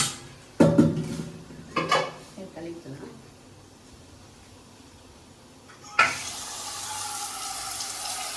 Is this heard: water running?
yes